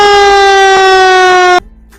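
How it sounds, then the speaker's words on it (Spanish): A fire engine siren sounds as one loud, steady, harmonically rich wail held for about a second and a half, then cuts off abruptly, leaving a brief fading echo. "como ejemplo la sirena de los bomberos"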